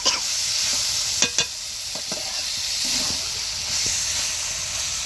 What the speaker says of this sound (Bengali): এই যে মা রান্না করছে আলু উচ্ছে ভাজা